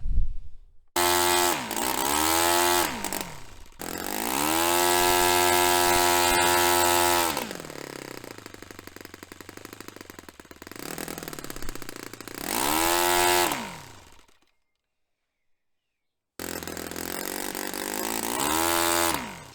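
A restored Saito FA-45 Special four-stroke model engine runs with a loud, close buzzing drone, its pitch rising and falling as it revs, sagging and cutting out completely before restarting.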